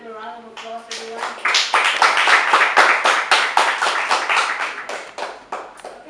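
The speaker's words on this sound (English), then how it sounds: "Can we give them a round of applause, everyone?" A brief tone gives way to a burst of audience clapping, a crowd of individual claps swelling quickly, holding steady and thinning out toward the end.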